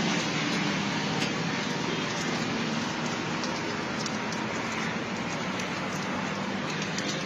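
Steady rain falls on a bus shelter, a dense, even hiss of drops that holds unbroken for several seconds and stays close and fairly loud.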